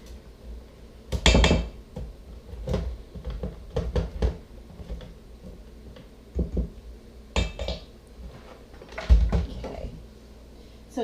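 Electric mixer beaters for lemon sugar cookie dough knocked against a bowl rim in several sharp clattering bursts, close and loud, separated by pauses with quieter kitchen handling between them.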